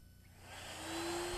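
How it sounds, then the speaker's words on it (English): A router fitted with a carbide dovetail cutter spins up from quiet, its whine rising steadily to a high steady tone within a second, faint and alone. "Starting the router away from the wood, I make the first pass from right to left."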